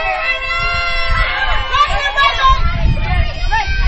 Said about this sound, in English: Crowd fired up here